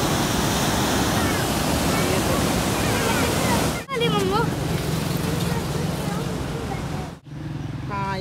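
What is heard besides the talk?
river water rushing at Taunsa Barrage, Indus River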